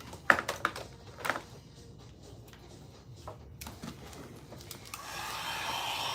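A hair dryer blows on an acrylic craft piece, starting near the end as a steady, rising whoosh after a stretch of scattered taps and clicks.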